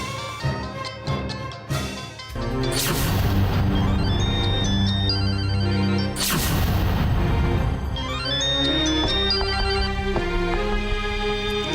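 A telephone rings with a loud, melodic electronic ringtone that repeats over several bars and fills the whole scene, with no voices.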